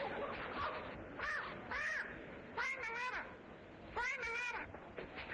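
A parrot in the Vampire Therapy video game squawks in a run of harsh, raspy cries, several bursts in a row with short gaps, fairly close and clear.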